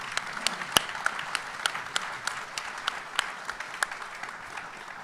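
An audience applauds at a talk about the Crystal Bridges museum campus, with steady clapping and sharp individual claps standing out across the whole stretch, no voices.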